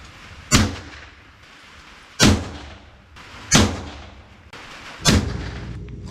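Four loud gunshots fired indoors into a stack of paper, spaced about one to two seconds apart, each a sharp crack followed by a short decaying echo, with no talking.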